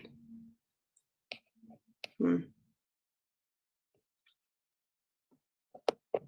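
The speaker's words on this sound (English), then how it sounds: "I'm clicking my arrow, Crystal." Sharp, isolated clicks from pressing an arrow key to advance slides during a virtual meeting, scattered among brief bits of speech and quiet gaps.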